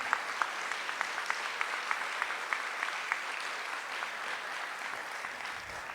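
Audience applause at a school recognition awards ceremony, steady dense clapping with sharper individual claps popping out, sustained throughout without a break.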